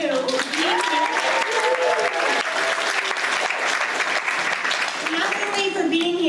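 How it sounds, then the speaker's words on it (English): Audience at a high school leadership training camp applauds steadily and loudly throughout, with cheering voices and whoops rising over the clapping. "So a round of applause for all of you."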